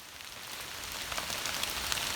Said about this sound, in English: Oh, that was really like heavy rain.